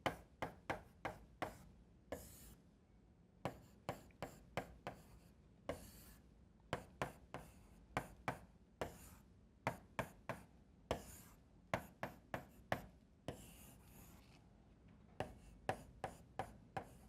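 Marker writing on a board while an algebra multiplication problem is worked out, quick squeaky strokes in short bursts and clusters separated by pauses, close and quiet, no talk.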